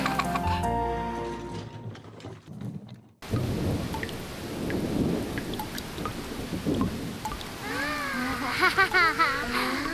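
Rain falls steadily in a spring rainy-day cartoon, a continuous patter with thunder-like rumbles, preceded by music and joined by a speaking voice and chirpy vocal sounds.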